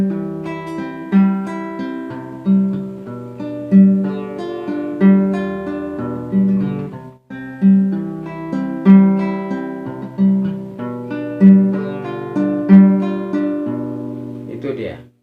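Acoustic guitar picking the fifth arpeggio pattern in a repeating plucked sequence, two even passes with a short break between, clear and close with no talking.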